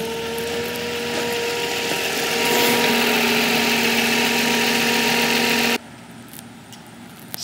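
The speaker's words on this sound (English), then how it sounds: "So I think the alternator is going out on the Nissan. Started making a whining noise." A 2005 Nissan Maxima engine idles with a steady, high, tonal alternator whine over the running motor, heard close for about six seconds before it cuts off abruptly, leaving quieter background noise.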